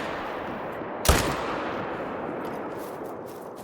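A single sharp rifle crack, aimed at a bighorn sheep in the theHunter: Call of the Wild hunting game, cuts through a steady outdoor ambience and fades in a short echoing tail.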